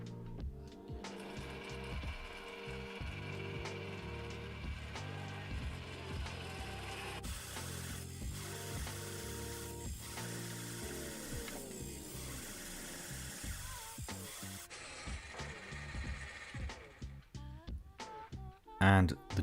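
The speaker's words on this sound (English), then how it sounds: "I decided to try out a 30mm Forstner bit, and I've got the RPM set to 500." A Scheppach DP55 710W bench pillar drill turns a 30mm Forstner bit at 500 RPM through a workpiece, giving a steady mechanical whir with ratcheting, grinding texture throughout, ending in a few louder knocks.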